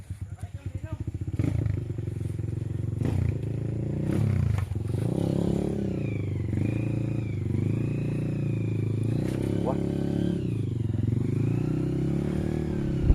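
A motorcycle labours up a sticky, muddy trail, its engine revving and surging as the wheel slips, loud and continuous with some scraping clatter.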